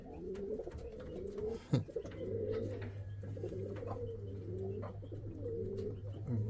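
Chinese owl pigeons coo in a loft, repeated low rolling coos close by with a brief flutter partway through and a steady low hum underneath.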